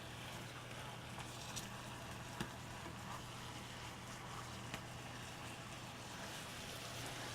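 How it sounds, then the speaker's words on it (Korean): Onions stir-frying in a pan with a tablespoon of sesame oil, a steady dense sizzle and hiss running throughout with a few small pops, no talk over it. "이제 볶을 거예요"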